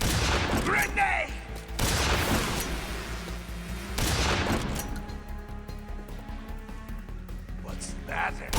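Grenade blasts and gunfire in the video game Metal Gear Solid 3: loud broadband bursts near the start, around two seconds and at four seconds, followed by scattered shots and rumble, with shouting voices in between.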